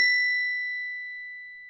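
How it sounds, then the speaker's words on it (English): A single bell sample strikes once with a bright ping, then rings on as a pure sustained tone that slowly fades over a second and a half, clean and isolated. "So this next one is a bell."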